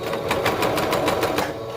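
A serger stitches elastic onto fabric for a romper, its rapid mechanical whirring and ticking running steadily, close and loud, with no talking.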